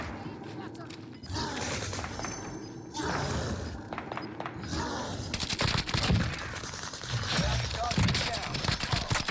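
A BREN firing in Call of Duty, rapid automatic bursts mixed with impacts and game noise, with a person talking over much of it.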